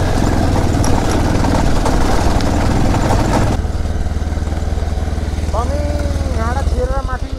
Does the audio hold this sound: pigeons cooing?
no